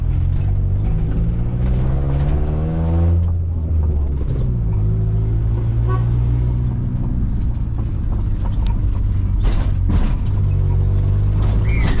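A taxi drives through the city centre of La Paz and El Alto, its engine droning close and steady while the pitch rises and falls with gear changes. Someone speaks over the motor noise.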